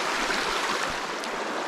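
The Jarbidge River running past a riverside camp spot where small rock dams form pools, a steady close rush and gurgle of water filling the whole stretch.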